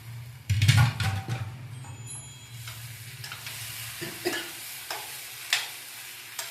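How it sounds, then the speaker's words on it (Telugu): Boiled chicken pieces drop into frying masala for a chicken gravy, followed by close spoon stirring over a steady sizzle with scattered scrapes and clinks. "బాగా ఉడకబెట్టి పక్కన పెట్టుకున్న ముక్కలు వేస్తున్నానండి"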